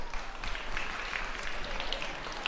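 A conference crowd at a stage event applauds to welcome a speaker, producing a dense, uniform wash of many hands clapping at once, sustained and moderately distant without a break.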